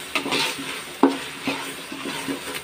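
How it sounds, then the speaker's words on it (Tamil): Mint, curry leaves and coriander sauté in a pan for homemade chicken dum biryani: a steady soft sizzle broken by spatula scrapes and taps against the pan. "புதினா, கருவேப்பிலை, கொத்தமல்லி இது எல்லாத்தையும் ஆட் பண்ணிக்கலாம். நல்லா வதக்கி விட்டுக்கலாம்."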